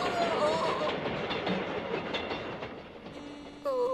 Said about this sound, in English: you can hear the sound of the train coming through the railway track